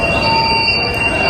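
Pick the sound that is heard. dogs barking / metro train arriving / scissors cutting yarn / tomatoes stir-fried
metro train arriving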